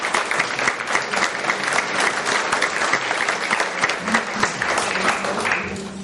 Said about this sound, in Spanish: quiero que recibamos con un cariñoso y fuerte aplauso al pastor Julio César